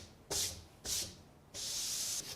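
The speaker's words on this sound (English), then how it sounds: "I'm going to sand both sides of the panel using 320 grit sandpaper" Sandpaper of 320 grit rubs across a shellac-coated cherry panel in three close, raspy strokes: two short swipes, then a longer steady pass.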